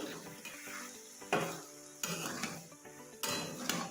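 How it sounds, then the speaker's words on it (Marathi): Chopped coriander is stirred into a cooking vegetable mixture in a pan, with a steady frying sizzle broken by several distinct scraping strokes of a spoon against the pan, close and clear, no talking. "कोथिंबीर पण मिक्स करून घेऊ।"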